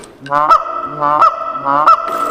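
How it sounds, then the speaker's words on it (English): Three close, loud honks from a blown goose call, each breaking upward into a sharp crack at its end, evenly spaced with no talk. "Like this goose call, you don't want it to sound like a goose call."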